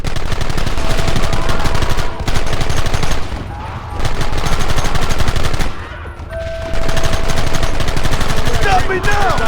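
Rapid bursts of gunfire from the Western video game Red Dead Redemption, loud and dense, with brief lulls between volleys and faint in-game voices mixed in.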